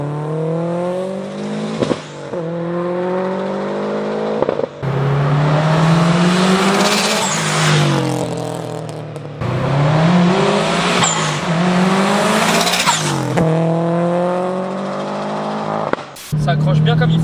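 A 540 hp stage 4+ Subaru on semi-slick tyres accelerating hard, its engine climbing repeatedly through short gears with quick shift breaks, loud and close, under excited talk from people inside.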